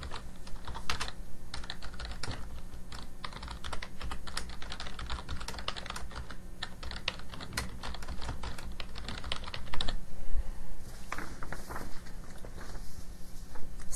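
Steady, brisk typing on a computer keyboard while entering earthquake database records, with close, continuous key clicks and a few quicker bursts, heard alone.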